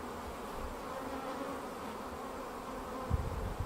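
A steady swarm hum fills the air as honey bees buzz inside an opened hive, close and constant, with a couple of soft knocks near the end and no talking.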